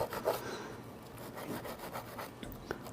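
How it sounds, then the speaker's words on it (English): A brush scrubs the cables of an Ez-Go electric golf cart battery, making faint, continuous rasping strokes that come close together and sit low in the mix with no talk over them. "Just been taking this brush here on the cables themselves"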